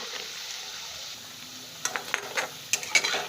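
Stuffed leaf-roll vadya frying in oil, a steady hiss of sizzling with scattered sharper crackles and spatters growing busier toward the end, close and without talk.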